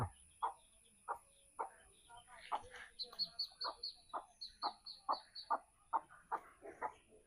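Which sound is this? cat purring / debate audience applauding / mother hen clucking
mother hen clucking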